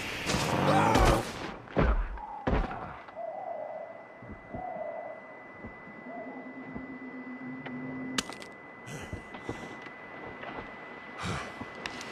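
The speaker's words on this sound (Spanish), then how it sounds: "El alce es bastante duro, puede aguantar incluso cuatro tiros o más mal dados" Several gunshots fired at a moose in the video game The Long Dark ring out as sharp, loud cracks, a cluster early on and scattered single shots later, over quiet ambient wilderness sound.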